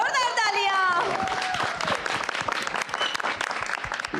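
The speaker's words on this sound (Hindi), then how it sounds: "जोरदार तालियां" A studio audience at a singing competition bursts into loud, sustained applause, with a voice audible briefly at the start.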